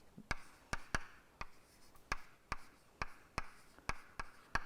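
Chalk or pen tapping and scratching on a board during a complex analysis lecture, a steady series of about a dozen short, sharp strokes spaced roughly evenly, close and fairly quiet, with no talking.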